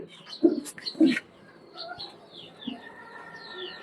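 Maxi pigeons in a rooftop garden aviary give two deep, close coos, with quieter chirps and bird calls trailing through the background afterward.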